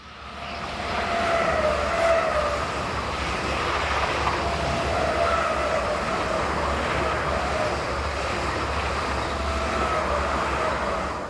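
Two paired Swiss Class 500 electric trains, 500 029 and 022, on a Solothurn to Sankt Gallen service pass steadily at the west end of the loops, a sustained rumble and whine with a faint tonal hum.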